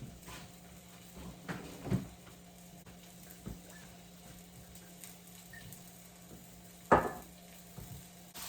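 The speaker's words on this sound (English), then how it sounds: "you'll start to hear it actually like have like a crackling" Ground beef cooks in a pan, giving a quiet, low sizzle broken by a few sharp, sporadic crackles and pops.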